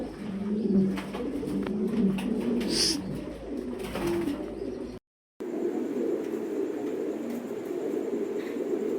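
Fancy pigeons cooing, soft low throaty calls that repeat through a busy, continuous background with some bird chirps mixed in, briefly cut by a gap.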